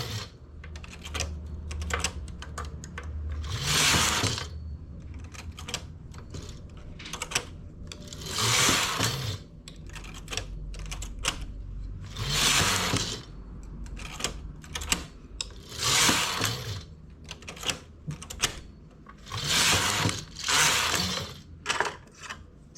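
A knitting machine carriage rattles back and forth knitting rows of a double band, with repeated mechanical sweeps and clicking passes, each lasting a second or two with pauses between, close and fairly loud.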